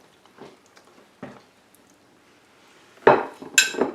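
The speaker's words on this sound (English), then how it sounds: "Let me get a spoon here and I'll serve us some up" A spoon scrapes and taps against a casserole dish while serving sausage gravy biscuit casserole, with a few soft clinks followed by louder metallic scrapes and a sharp clink near the end.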